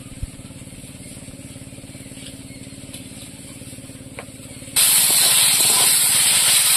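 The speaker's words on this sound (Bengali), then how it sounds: "জিরে বাটা দিয়ে কষিয়ে নেবো" Cumin paste frying in a pan, a steady low background sizzle that suddenly jumps into a loud, bright, continuous hiss for the last couple of seconds.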